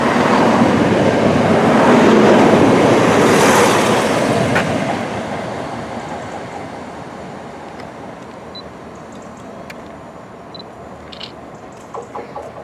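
A Class 171 diesel unit rumbles through Water Orton station, loud and close at first with a broad roar peaking early, then fading steadily as it moves off, with faint rail clicks near the end.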